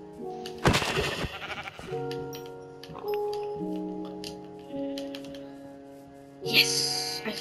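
Sheep bleating in Minecraft, heard as a few wavering bleats over a steady backdrop of game sounds, with a loud clattering burst near the start and a bright chime toward the end.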